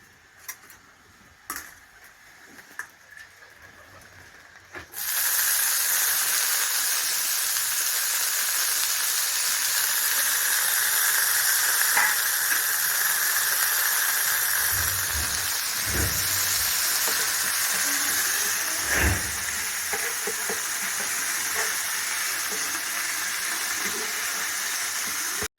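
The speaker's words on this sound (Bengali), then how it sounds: "এখানে যে তেল আছে এটাতে আমার নিম পাতা ভাজা হয়ে যাবে।" Neem leaves hit hot oil with a sudden loud, steady sizzle that starts after a few seconds of quiet clicks and holds unbroken to the end, with a few soft knocks underneath.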